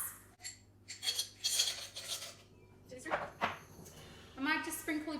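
Ice added to a Halloween cocktail, several bright clinks and rattles of cubes dropping into a glass, with clattering handling sounds in a quiet room.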